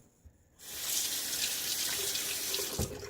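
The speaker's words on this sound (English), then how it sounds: "Dang it, I rinsed my razor in the wrong thing again." After a quiet moment, a tap opens and water runs steadily into a sink, close by, as a razor is rinsed under the stream.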